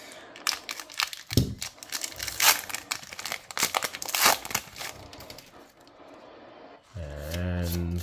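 Crinkly foil wrapping of a Lord of the Rings trading card booster pack is torn and crumpled open close up in sharp, irregular bursts, with a brief low hum near the end.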